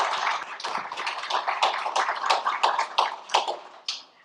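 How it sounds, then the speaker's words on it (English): Small audience at an art museum lecture giving a round of applause, sparse, distinct hand claps from a modest group, fairly close and clear, tapering off at the end with no talk over it. "I would like to give them a round of applause"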